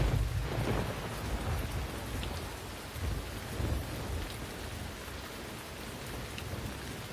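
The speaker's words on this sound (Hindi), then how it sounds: "बारिश शुरू हो गई है" Steady rain with rolling rumbles of thunder, a dense continuous downpour with low booming swells that rise and fall through a thunderstorm, no voices present.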